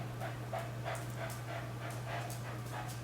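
Rhythmic panting from a dog in a room during a zombie makeup session, steady quick breaths close to the microphone over a constant low hum.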